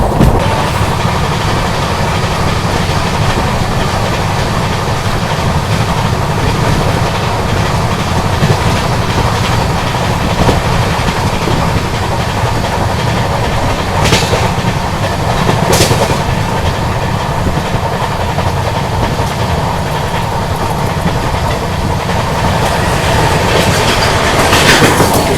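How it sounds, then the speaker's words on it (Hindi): West Coast Superfast Express running at about 130 km/h, a steady loud roar of wheels and rushing air with rhythmic clickety-clack and faint squeals, heard continuously from inside the moving train, with no talking. "देखो बढ़िया भाग रही है गाड़ी।"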